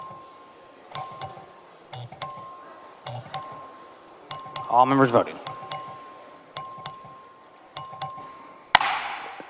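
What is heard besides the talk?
voting bell in the Texas House chamber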